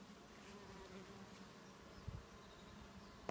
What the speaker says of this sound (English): the hum of the bees.